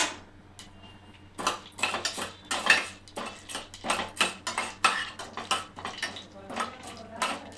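Chana dal and urad dal frying in a pan, heard as repeated metallic scrapes and clinks of a spoon stirring against the pan, in irregular bursts at close range with no talk.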